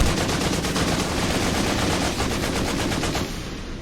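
Sustained rapid automatic gunfire from an animated Warhammer 40k battle, a dense continuous volley of loud close shots that tapers slightly near the end, no speech.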